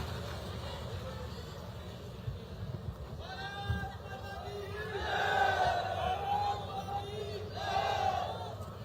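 A crowd at an outdoor political rally in Julana, with a woman leader being welcomed, makes a steady, dense roar of noise. It swells louder in the second half, and a voice rings out over the crowd.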